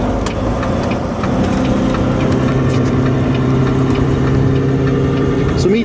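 A 2008 Volvo truck's 500 HP D16 engine idles close by with a steady, even low throb and a slight rise in pitch toward the end; no one speaks.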